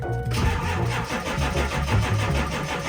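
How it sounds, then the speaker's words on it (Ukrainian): Semi truck engine cranking and catching after a boost in a video game, then settling into a loud, steady, rumbling idle. "Тепер я сподіваюся, я зможу завести."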